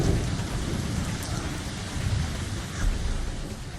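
Steady heavy rain pours down during a river boat cruise, dense and continuous, with low rumbling thunder rolling underneath throughout and no voices.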